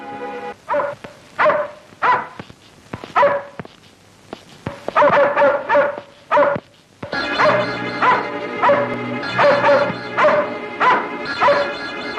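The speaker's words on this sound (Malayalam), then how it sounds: "പട്ടി അദ്ദേഹത്തിന്റെ നേരെ കുരച്ചു ചാടി." A dog barks repeatedly, leaping at a man setting out on a hunt in the old Malayalam film Ponmudi, loud close barks in uneven bursts that merge into a continuous run of barking and yelping in the second half.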